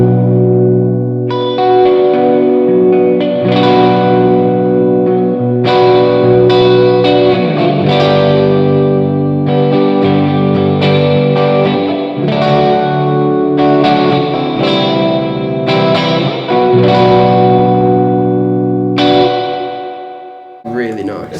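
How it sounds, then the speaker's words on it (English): Guitar through the built-in digital spring reverb of a Hughes & Kettner GrandMeister Deluxe 40 amp, turned all the way up, giving loud strummed chords a washy, spacious tail that rings out and fades at the end. "It's just a built-in kind of simple digital spring reverb."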